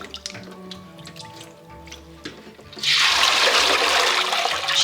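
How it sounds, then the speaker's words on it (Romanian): Blackberries are swished by hand in a bowl of water: soft drips and small splashes at first, then a louder, continuous rush of moving water, all close up. "Ok, le punem cu grijă în apă."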